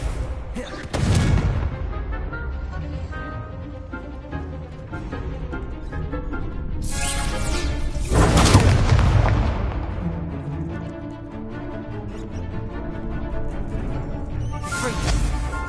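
Spell explosions in the Hogwarts Legacy video game, several booming blasts and crackling bursts of varying loudness, with a large one near the middle over a continuous game soundscape.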